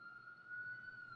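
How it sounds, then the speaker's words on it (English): A steady emergency vehicle siren wails outdoors at a distance, a thin continuous high tone holding over faint background traffic hiss. "Oh, that siren is so fucking loud."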